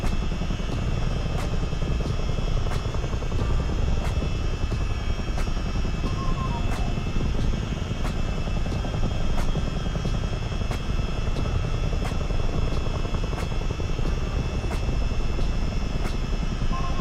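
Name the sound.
CH-47 Chinook helicopter in video game Microsoft Flight Simulator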